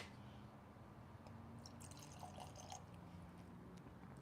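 Fortaleza tequila at 47% ABV being poured into a glass, a faint, soft trickle and drip of liquid against a quiet, steady room background.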